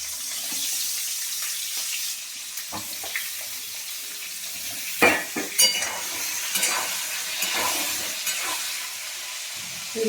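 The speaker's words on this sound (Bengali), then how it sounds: "ফুলকপির তেলের মধ্যে আলুগুলো দিয়ে দিলাম" Potatoes go into hot oil left over from frying cauliflower, giving a close, steady hiss with scattered splashy crackles and a few louder spatters partway through.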